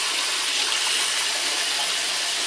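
Cool water pours from a tap into a bathtub being filled for a bath, a steady close rush of running water that holds constant and alone with no talking.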